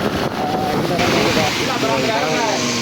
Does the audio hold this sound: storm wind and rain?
yes